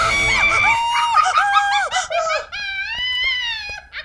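A woman alone in a deserted house at night lets out loud, sustained, wavering screams in several bursts, close and intense, with no other sounds.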